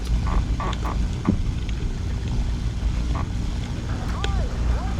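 A P-51 propeller fighter's engine roars steadily during takeoff in the War Thunder flight game, a dense continuous drone with faint tonal sweeps near the end.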